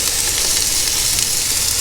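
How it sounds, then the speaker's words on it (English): New potatoes sizzling in a frying pan alongside steak, a steady close, loud frying hiss with crackling spatter running unbroken throughout, no voices. "we just heat them up in the pan and we cook them with the steak"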